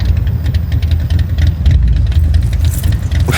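A car engine hums steadily with a deep low rumble, running close by at an even level through the whole stretch, with a brief rise near the end.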